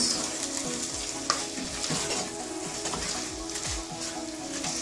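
Potatoes stirred into a frying spinach and black chickpea curry: a steady sizzle with rhythmic spoon scrapes against the pan, close up and without speech.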